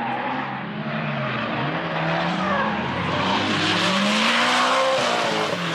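A drift car at full throttle in a 2022 D1 Lights drift competition, its tires sliding: a loud, continuous engine roar blended with tire squeal that holds steady and swells slightly toward the end.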